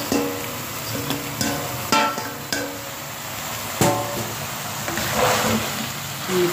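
A spoon scrapes and clatters in a pot while chukandar methi gosht, a mutton dish with beetroot and fenugreek, is stirred over heat. Irregular metallic knocks ring out over a steady low sizzle.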